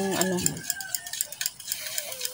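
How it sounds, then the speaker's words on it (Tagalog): Fried eggplant and egg being stirred together in a pan, with a run of quick clinks and scrapes of the utensil against the metal, following a brief bit of voice at the start. "Ihalo-halo ko na ang ating talong."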